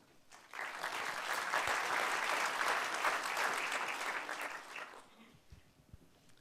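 Conference audience at a travel-industry professionals' opening session applauding to welcome the association president, a dense burst of clapping that swells, holds for about four seconds, then fades to a few scattered claps.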